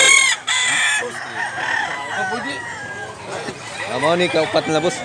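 Chickens and roosters at a poultry farm in Mantalungon, Cebu cluck and crow nearby, one rooster crowing loudly near the end, while someone talks over the birds.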